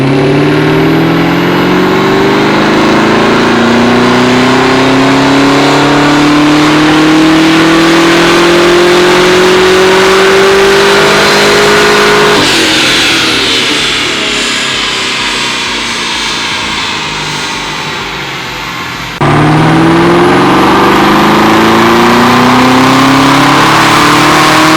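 Stock 2019 Chevrolet Camaro ZL1 1LE revving loudly on a dyno, with two long pulls where the engine pitch climbs steadily to a roar, a brief drop and easing off between them, and no voices.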